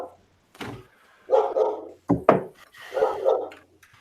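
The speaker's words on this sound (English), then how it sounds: "my dog is very excited about this" An excited pet dog barks close by in repeated bursts: sharp single barks, then clusters of rapid yelping barks with short pauses between them.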